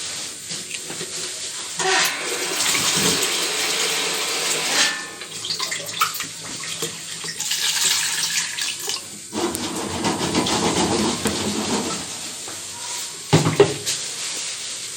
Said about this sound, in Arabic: هنحط الميه عادي كده من الحنفيه